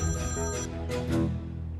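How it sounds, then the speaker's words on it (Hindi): A telephone ringing with a steady electronic ringtone in a repeating pattern, fairly quiet and heard alone with no talk. "सुहान का फोन है"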